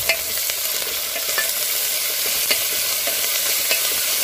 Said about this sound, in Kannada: ಈಗ ನಾವು ಮೆಂತ್ಯೆ ಸೊಪ್ಪನ್ನು ಹಾಕ್ತಾ ಇದ್ದೀನಿ.